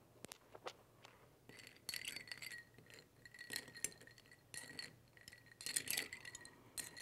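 Ice clinking against a glass as a Negroni is stirred with vermouth added, giving a run of light, close glassy chinks and rattles in irregular bursts, with no voices.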